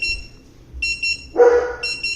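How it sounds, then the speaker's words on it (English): A Eufy smart safe sounds an alarm of clear, high electronic beeps in short bursts, repeating about every second, with a louder noisy thump partway through. "You can hear that beep."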